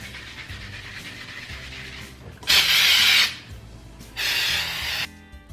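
A can of artificial snow spray hisses in two loud bursts of about a second each, sprayed onto a red Christmas wreath, with quieter handling and faint background sounds between.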